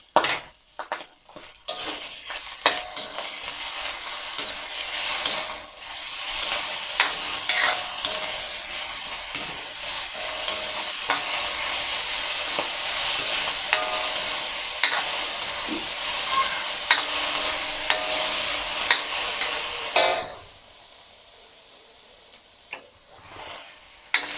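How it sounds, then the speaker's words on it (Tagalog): Bagoong alamang shrimp paste sautéing in a pan: a steady, close sizzle with scraping stirs runs for about twenty seconds, then cuts off into near quiet. "At yung bagoong alamang, gisain natin ng konti para hindi malansa."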